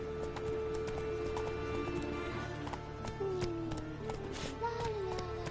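Roach, the horse in The Witcher 3, gallops with quick rhythmic clip-clop hoofbeats over sustained in-game music, with brief gliding musical tones on top.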